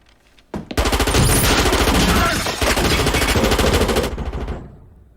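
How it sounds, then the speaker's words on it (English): Silenced shotgun blasts from a film crime thriller ring out as a loud, rapid burst of repeated shots lasting several seconds, then cut off abruptly. "I didn't even know you could get a freaking silencer for a shotgun"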